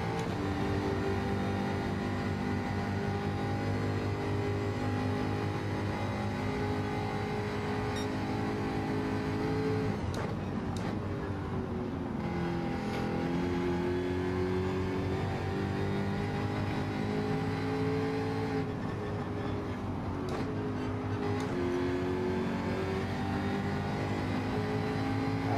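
An old Jaguar race car in Gran Turismo 7 at Watkins Glen short course: a steady, loud engine drone with strong harmonics, its pitch dipping and rising through gear changes and braking, continuous without talk.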